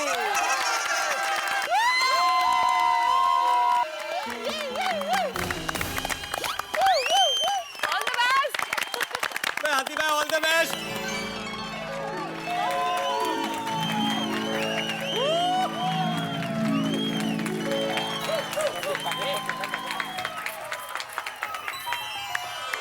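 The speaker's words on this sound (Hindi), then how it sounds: "बड़ी जोरदार तालियां" Loud applause and cheering from a studio crowd at a surprise welcome for a doctor and his wife on a family sitcom set, sustained clapping with shouts mixed in, while voices speak over it.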